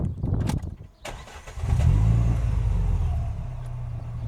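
A Renault Clio 3 RS Trophy 200 hp engine cranks and catches, then revs up into a loud, steady low growl that settles slightly, close by with no talking.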